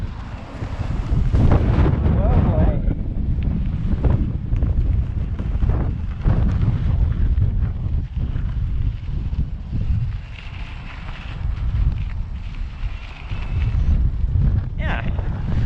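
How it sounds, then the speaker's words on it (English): Heavy, continuous wind buffeting batters the microphone while riding a 2019 IZIP E3 TRLZ e-bike, a loud low rumble that swells and dips throughout, with occasional speech mixed underneath. "It's a little bit windy right now, but I can still mostly ride."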